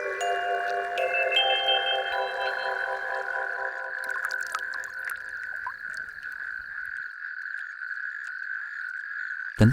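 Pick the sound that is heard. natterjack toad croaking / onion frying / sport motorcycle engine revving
natterjack toad croaking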